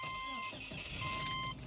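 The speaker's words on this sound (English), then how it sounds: "we'll go ahead and start the car and see what's going on" A third-generation 2005-2009 Subaru Outback engine cranks and starts faintly, heard from inside the car with steady electronic chime tones ringing over it.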